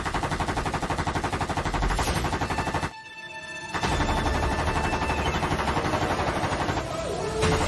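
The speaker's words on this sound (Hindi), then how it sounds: "ये सरकारपुर है, यहाँ पे बंदूकें चलती है" Guns fire in the village of Sarkarpur, a dense continuous rattle of rapid shots that carries on for several seconds, breaks off for a moment, then resumes just as loud and close.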